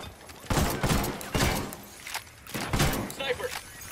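Sniper rifle fire in Ghost Recon Wildlands: several sharp, loud, broadband cracks spaced a second or so apart, mixed with other in-game noise.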